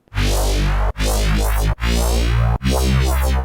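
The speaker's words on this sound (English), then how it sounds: "The raw sample sounds like this." Raw colour bass synth sample playing four sustained, heavily harmonic notes with resonant filter sweeps, each cut by a brief gap, loud and dry with no voices.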